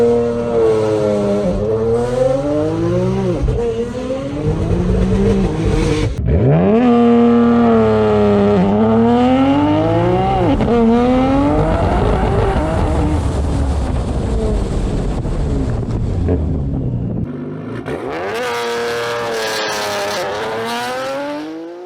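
A 1400-whp Nissan GT-R launching hard on a closed course: a loud, close engine roars through rising gears with tire squeal, a brief lift between shifts, then wind rush and a hiss at the end.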